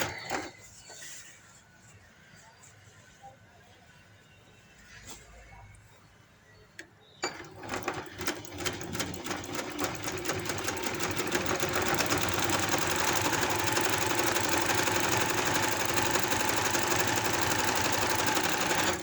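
A sewing machine stitching palazzo pants starts after a quiet pause and then runs continuously at a fast, rattling pace, close and growing steadily louder.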